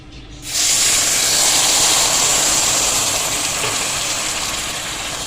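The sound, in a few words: sugar and milk starting to cook in a pot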